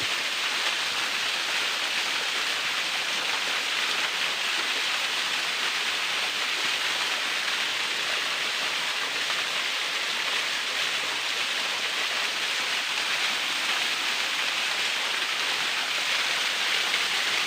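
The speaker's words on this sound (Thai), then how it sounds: "น้ำตกครับ" A waterfall pours in a cool natural setting, making a constant dense rush of water that holds steady and fairly loud throughout with no voices.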